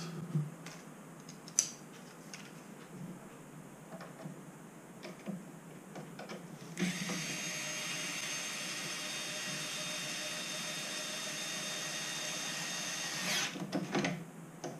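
A power drill whirs steadily for several seconds drilling holes in an airsoft Carl Gustav launcher during assembly, after some light handling noises, then stops with a few clicks and knocks.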